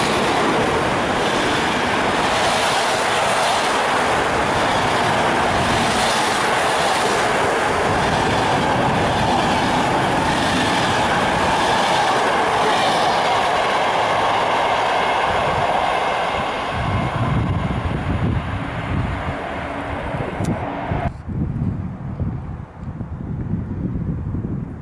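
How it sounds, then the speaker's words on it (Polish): Intercity train Łodzianin, running from Warszawa Wschodnia to Łódź Fabryczna, passes through Skierniewice station with a loud, sustained rush and rumble, rhythmic clickety-clack of wheels and gusts of wind, easing off near the end. "Pociąg Intercity Łodzianin ze stacji Warszawa Wschodnia do stacji Łódź"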